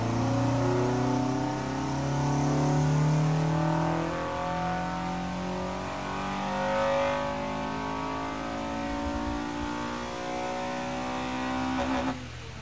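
A Honda B16 engine revs hard on a dyno, its loud, high wail climbing and falling in sweeping runs before cutting off, with no talking.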